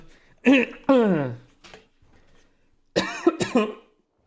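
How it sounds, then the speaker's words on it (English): A person nearby coughs and hiccups in two short clusters of sharp, voiced bursts separated by a brief quiet gap, loud and close. "Like hiccuping and coughing"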